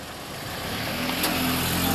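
A Ridegenesis offroader creeps along at barely engaged throttle, giving a steady low engine hum with a faint rising whine, close and continuous.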